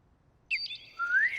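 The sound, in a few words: whistled bird calls imitated for a radio play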